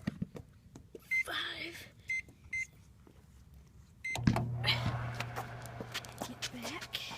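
A small microwave oven set to cook for five minutes starts up and hums steadily at close range after a few short beeps, with a voice speaking briefly in the background.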